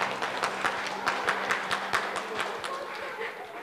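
A graduation ceremony audience claps for the graduates, a steady, dense round of applause filling the hall for several seconds, with some crowd murmur underneath.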